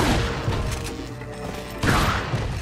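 A grenade detonates in Resident Evil 4, a loud, dense burst of crackling blasts with a heavy rumble that fades midway, then flares again.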